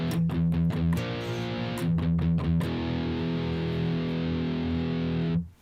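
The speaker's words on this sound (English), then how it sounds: "We're going to be adding a distortion, well, an overdrive distortion pedal" An electric guitar through an overdrive distortion pedal with the gain at about half, playing a few chugging palm-muted hits and then a sustained crunchy chord that rings loud and alone before cutting off.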